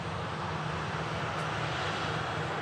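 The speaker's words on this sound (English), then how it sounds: "Emirates A380, King of the Skies," Emirates A380 airliner on approach into Manchester Airport, a steady broad rumbling engine roar held at an even level across the whole short stretch, distant and unbroken.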